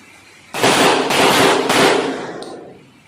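A Derya Mk12 shotgun with a 9.5-inch barrel fires several shots in quick succession outdoors; loud, broadband blasts merge into a roaring burst about a second and a half long that then decays, with no talk.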